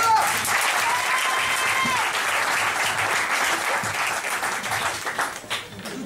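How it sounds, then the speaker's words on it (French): An audience at a theatre and improvisation festival applauds an improviser in a full, steady burst of clapping that thins and tapers off near the end, with some voices mixed into the crowd. "On l'applaudit encore."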